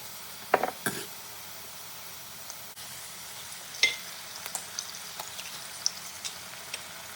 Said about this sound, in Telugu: ఇక్కడ కొంచెం ఆయిల్ వేసి అందులో ఎగ్స్ వేసి ఫ్రై చేసేస్తాను